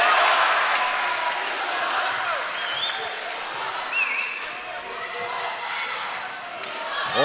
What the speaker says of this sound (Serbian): Publika u ovom trenutku bodri Nikolu Drobnjaka.